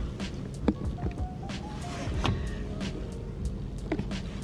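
A car pulling up and parking outside a vegan fast food restaurant, with a steady low engine rumble, a brief whine like a power window and a few soft knocks and clicks, close and moderately loud without talk.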